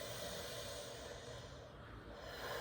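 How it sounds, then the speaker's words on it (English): A deep, drawn-out breath taken in through an open mouth, a continuous airy rush close to the microphone that swells and eases slightly over a few seconds, heard alone. "breathe through your open mouth. Take a lot of oxygen in"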